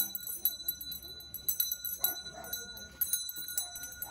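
A hand bell carried by an elderly woman in a night torch procession in Tetelpa rings insistently in quick, irregular clangs, fairly close, over street noise and footsteps.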